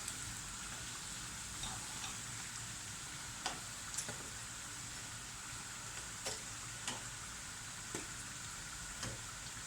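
Yeast-free pişi dough pieces fry in hot oil with a soft, steady bubbling sizzle, punctuated by occasional sharper pops and crackles, fairly quiet and close.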